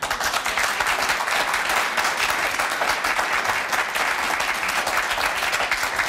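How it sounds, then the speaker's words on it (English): Studio audience at a televised political debate applauding steadily, a dense sustained wash of many hands clapping at an even level for several seconds, with no speech over it. "Well, there's a lot of applause."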